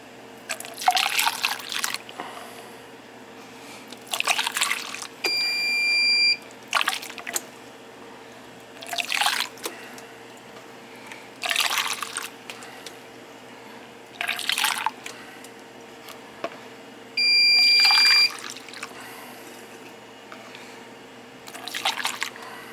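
Distilled water poured into a sump pump backup battery in a basement, short repeated bursts of trickling and splashing separated by pauses, close and fairly loud.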